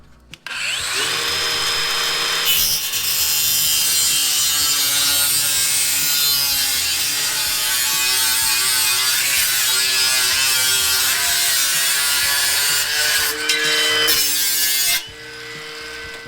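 Power trimming tool cutting away excess sheet metal on a rusted Ford Landau hardtop coupe A pillar, a loud continuous high-pitched buzzing cut lasting about twelve seconds before cutting off abruptly.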